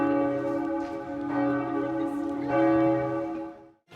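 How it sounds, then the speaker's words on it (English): The bells of Bayeux Cathedral in Normandy, France ring steadily, their long overlapping tones sustained and resonant, with a brief fade near the end. "There, we listened to the bells."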